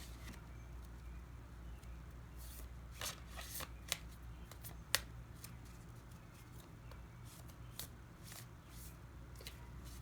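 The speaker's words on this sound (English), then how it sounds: "I'm going to pull us a Moonology card." Moonology oracle cards being shuffled close by, a soft quiet series of riffling flicks and taps at irregular intervals over low room hum.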